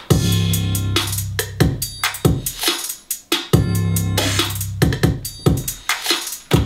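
Booming 808 bass plays under a punchy drum beat, with sharp kicks, snares and hi-hats driving a steady hip-hop groove.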